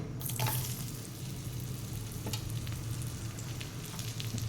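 Chopped onion sizzles steadily in hot oil in a pan, a continuous close frying hiss while cooking mushroom masala, with no talking.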